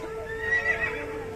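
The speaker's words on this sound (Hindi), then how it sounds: "कितना मनमोहक और सुंदर घोड़ा है।" A horse whinnies in a short, faint neigh that rises briefly above a quiet, steady background and then fades.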